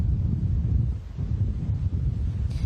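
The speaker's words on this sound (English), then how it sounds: "It's so windy out here." Strong wind at Huntington Beach during a storm buffets the microphone in a constant low roar, gusting unevenly throughout with no other clear sounds.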